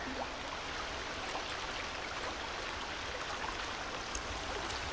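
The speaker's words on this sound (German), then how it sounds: "schöner Wasserfall" Waterfall in the video game The Forest, a steady broadband rush of falling water that stays even and moderately loud throughout, with no voices over it.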